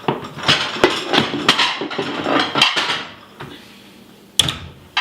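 Ceramic plates clink and knock together as they are lifted out, a series of sharp clatters and thuds with a brief pause before a final clunk.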